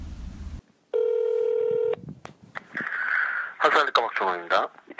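A telephone call connects to a university academic affairs office: a steady dial tone runs for about a second, then clicks, a faint tone, and a person begins speaking.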